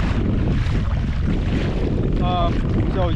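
Strong wind buffets the microphone out at sea during kayak fishing off a reef, a loud continuous roar with water noise and a brief voice near the end.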